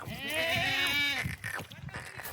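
A goat gives one long, wavering bleat close by, followed by softer rustling and shorter bleating sounds.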